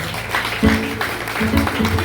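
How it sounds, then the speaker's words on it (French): A church congregation applauds at a harvest festival. The clapping is steady and mid-distance, with voices and tonal sound layered over it. "On applaudit encore une fois, s'il vous plaît."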